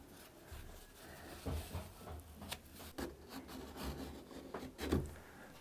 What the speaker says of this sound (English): I'm just going to clean up the excess glue so it's out of the way.